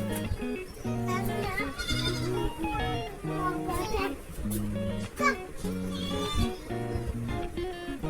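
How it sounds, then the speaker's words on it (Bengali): A goat bleats repeatedly in wavering cries over background music with a steady beat, the calls recurring every second or so. "দেখেছো ছাগলের পেঁপা করছে তোমরা তো শুনতেই পাচ্ছ"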